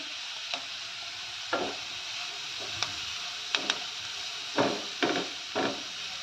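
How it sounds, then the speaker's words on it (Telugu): Vegetables fry and get stirred in a pan for egg fried rice, a steady broad sizzle broken by sharp scraping strokes of a spatula every second or so, close up with no talk. "చూడండి మన వెజిటబుల్స్ వచ్చేసి మనకి పర్ఫెక్ట్గా బాగా ఫ్రై అయిపోయాయి"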